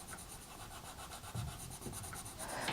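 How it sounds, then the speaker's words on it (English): Coloured pencil burnishing on paper gives a soft, close, continuous rubbing scratch with quick back-and-forth strokes, faint and alone. "I just want to burnish it a bit, make them a bit darker."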